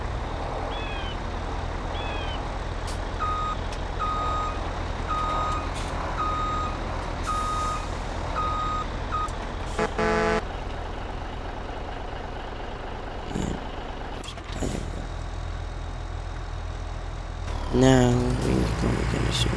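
A truck engine idles steadily in the video game Farming Simulator 2017 while its reversing alarm beeps in an even series, followed by clanks and other machine noises over a constant low rumble.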